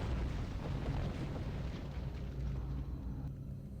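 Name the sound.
detonated explosive charges exploding in Star Trek Online video game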